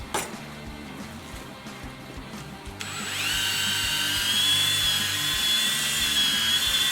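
Power polisher buffing car paint with rubbing compound, a steady high whine that spins up partway through and holds loud and close, no talking.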